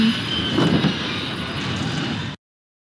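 Train carriage rolling along rails in a Nancy Drew video game, a steady rumbling clatter with faint high squeal that runs evenly and then cuts off abruptly near the end.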